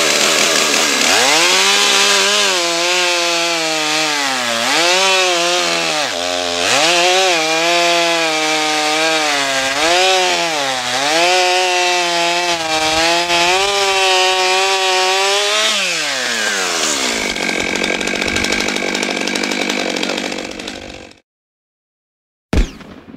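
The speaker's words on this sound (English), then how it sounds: "Going to take this new steel 661C chainsaw and give you a little demonstration of it." Stihl 661C chainsaw with an 80cc motor, started on choke and revved hard in repeated surges, close and very loud, before dropping to a rougher idle and cutting out abruptly near the end.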